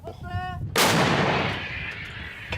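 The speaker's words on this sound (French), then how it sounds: "Le ballet angoissant des hommes et des obus fumants reprend son cours." At the front line, a single loud artillery shell fires with a heavy boom that rolls into a long fading rumble, after a brief tonal hum just before it.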